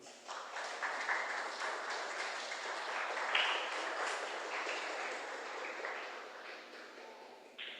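A church congregation claps together in sustained applause at moderate level, swelling slightly in the middle and fading toward the end, with no speech over it.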